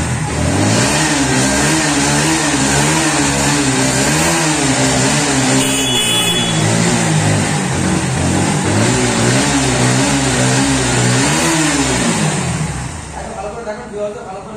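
A 2023 Bajaj NS 125cc motorcycle in a second-hand bike showroom revs loudly and close, its engine swelling and dropping in repeated waves before it settles toward idle near the end.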